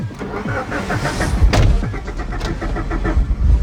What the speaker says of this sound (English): This thing smells and sounds like a serious car, Nolan.